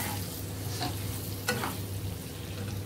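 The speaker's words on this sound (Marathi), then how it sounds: "आपण आता त्याच्यामध्ये छान मसाल्यामध्ये परतून घ्यायचे आहे अर्धा मिनिट" Bangda mackerel pieces sautéing in ground masala and oil for a curry give a steady, close sizzle, with a few brief scraping stirs cutting through at intervals; no one speaks.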